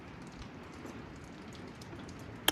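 Light rain falls steadily in a Neelum Valley village, a soft, even patter with no voices, ending in one brief sharp tap.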